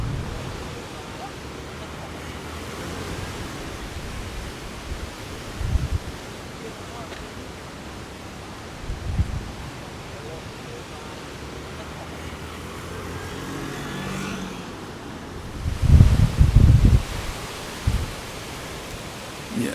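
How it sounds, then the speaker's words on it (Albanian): Strong wind buffets the open waterfront in Durres, Albania, in November, roaring as a steady broadband rush with louder gusts thumping against the microphone at intervals. "era është shumë e fortë sot këtu në Durrës"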